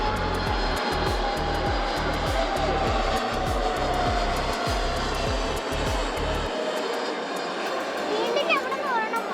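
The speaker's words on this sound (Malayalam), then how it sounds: "നേവിയുടെ ഡ്രോണിയർ വിമാനങ്ങൾ 4 എണ്ണം." Several Navy Dornier aircraft fly over during a Navy Day final rehearsal, giving a loud, steady engine drone that swells and carries on throughout. A rhythmic, pulsing low hum sits beneath it for the first two thirds.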